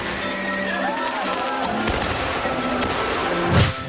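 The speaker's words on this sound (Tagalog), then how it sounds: "meron ding fireworks." Fireworks going off at a Christmas village in Baguio, heard as scattered pops and crackles over a busy background of music and crowd noise, with one louder burst near the end.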